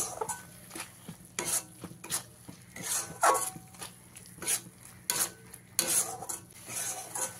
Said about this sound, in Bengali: কাজু আর পোস্তর পেস্টটা দিয়ে গ্যাসের ফ্লেমটাকে একদম লোতে করে 5 মিনিট আমি ভালো করে মশলার সাথে কষিয়ে নেব